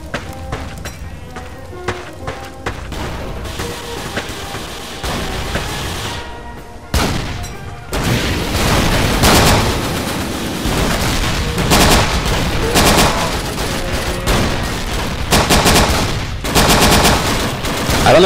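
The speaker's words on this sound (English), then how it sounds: "Tommy's got a brand new Tommy gun." Tommy gun fire in Dino D-Day, the World War II shooter with dinosaurs: rapid bursts of automatic gunfire mixed with booms, quieter at first and then loud and dense from about seven seconds on.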